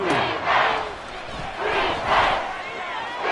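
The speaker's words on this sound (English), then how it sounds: "And this crowd into it now." Football stadium crowd cheering and roaring in loud, swelling waves that rise and fall over a few seconds, a dense, continuous mass of voices.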